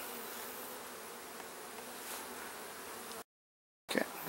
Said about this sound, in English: A lot of bees in this hive in general.